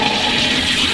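Water rushes steadily and loudly through the ballcock valve of a cattle water trough as it refills, a continuous close hiss and gush with no other sounds.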